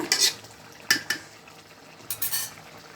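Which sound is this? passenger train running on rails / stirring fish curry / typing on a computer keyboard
stirring fish curry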